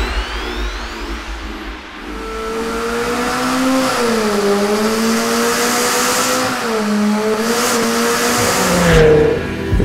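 McLaren 720S supercar engine revving hard on its own, a loud, steady rising and falling mechanical roar with sustained harmonics that swell toward the end, close and without voices.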